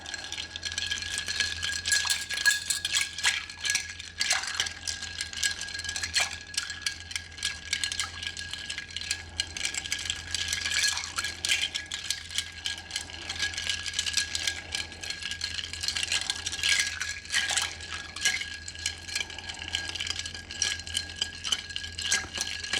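A cocktail is stirred over ice cubes in a mixing glass, giving a steady, continuous rattle and clink of ice against glass for over twenty seconds, close and fairly loud with no talking.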